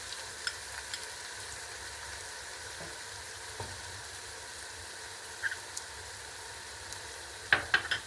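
Ingredients roasting in a pan give a soft, steady sizzle with a few faint clicks and taps near the end.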